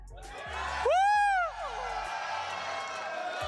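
An esports watch-party crowd at an MLBB M6 event cheers, with one loud rising-and-falling whoop standing out above a steady roar of voices.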